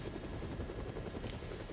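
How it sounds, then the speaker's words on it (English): A helicopter's rotor thumps in a fast, steady chop with a continuous engine whine underneath, moderately loud and unbroken, from the Dead Rising Deluxe Remaster video game. "they even got the same sound effects for the helicopter"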